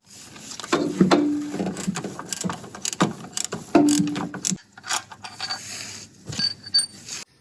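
A ratchet works on the lower mounting bolt of a VW Mk1/Mk2/Mk3 starter motor, giving close, irregular mechanical clicking and metallic clatter in bursts, with a couple of brief squeaky tones and some handling noise.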